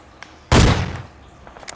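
One sharp, loud gunshot from the video game PUBG on Xbox One cracks out and decays over about half a second, with faint clicks before and after.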